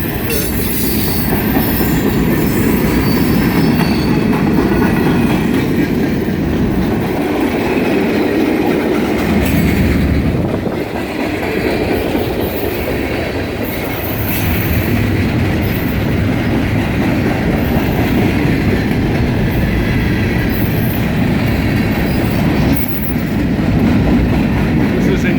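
Train wheels roll steadily over the rails in a loud, continuous rumble with faint clatter and squeal, close by, with no voices.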